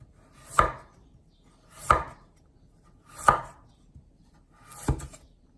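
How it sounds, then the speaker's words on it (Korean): A knife chops through carrots four times at an even, unhurried pace, each sharp thunk close and clear against a quiet background. "당근은 가지보다 조금 얇게 써세요"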